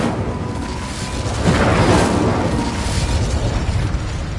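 A loud fiery spell blast from Hogwarts Legacy swells into a broad roaring burst around the middle, then a sustained crackling rumble continues to the end, with no talking.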